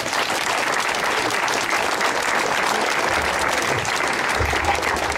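An audience claps steadily for a mayor at a public speech, a dense, sustained round of applause from a crowd, loud and close throughout.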